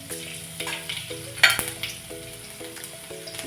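Crushed garlic frying in hot oil with cumin and mustard seeds, with a soft, steady sizzle and a sharp crackle or spoon clink near the middle, under quiet background music.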